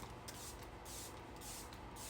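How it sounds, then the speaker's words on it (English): Absolute New York Coconut Glow setting spray is misted onto a face in a few quick soft pumps, close and quiet. "I'm going to set my face with this Absolute New York Coconut Glow Setting Spray"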